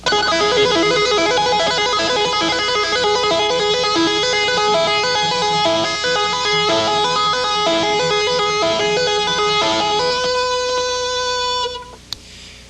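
Fast, even electric guitar two-hand tapping, the first finger tapping more than the others, runs a steady stream of bright repeated notes, sustained and dense, ending with a brief pause and a small click.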